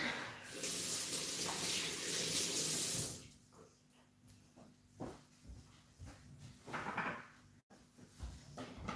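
A running kitchen tap splashes steadily as hands are washed, loud for about three seconds before the water stops, followed by scattered soft clatters and handling noises.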